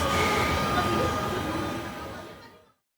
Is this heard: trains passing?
yes